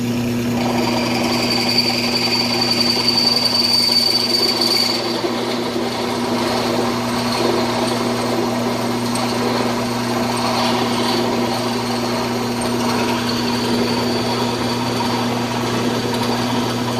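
A power drill spins a bit into hard steel, a steady whining motor hum with a grinding edge, continuous and close for the whole stretch with no talk.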